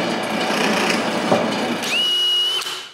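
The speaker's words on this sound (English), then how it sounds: "I trace where I want them to be and drill 3 holes on each side." Power drill boring holes in a wooden back plate: a steady, grinding whir of the bit cutting wood, ending with a short high motor whine as it spins free.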